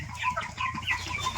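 Tiger chickens on a poultry farm clucking and calling in short overlapping bursts, close and fairly loud, with no talking.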